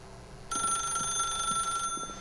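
A telephone in The Stanley Parable rings with one sustained electronic trill, a bright steady tone lasting just over a second before cutting off, with faint background ambience around it.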